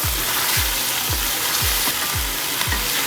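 Shrimp paste (alamang) fries in a pan for pinakbet, a steady broadband sizzle running throughout, with a regular series of low thumps from stirring about twice a second. No one speaks.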